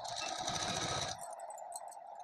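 A sewing machine runs fast while stitching a suit, a close, even whirring chatter that stops abruptly partway, leaving a faint hum and a few small clicks.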